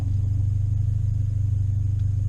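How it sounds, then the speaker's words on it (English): A turbocharged Subaru BRZ engine rumbles low and steady from inside the car on its first test drive, a pulsing idle-like drone with faint clatter as it drives. "now what we're gonna do is take the car on its first test drive"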